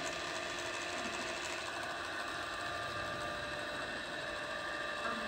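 A Soraluce TRO-1250 radial arm drill spindle turns at its top speed of 1700 rpm, producing a steady, dense mechanical whir with a constant hum and no pauses.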